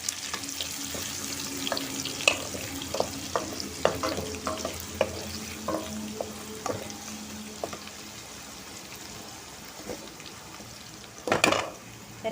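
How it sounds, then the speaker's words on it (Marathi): Onion fries in hot oil with crackling mustard seeds and curry leaves, a constant sizzle beneath repeated spatula scrapes and taps against the pan, then a brief louder clatter near the end, with no voices. "कांदा व्यवस्थित दळून घेते."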